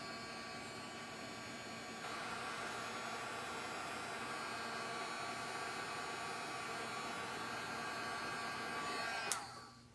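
A heat embossing tool blows a steady, loud whooshing roar over an art journal page resting on a craft mat, running continuously for ten seconds and growing slightly stronger before cutting off abruptly near the end.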